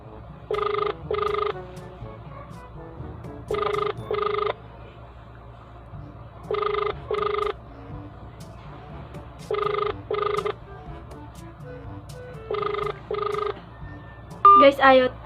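A telephone rings out unanswered during a prank call, five evenly spaced double-burst rings repeating every three seconds or so over a low background hum, followed by a short tonal blip at the end.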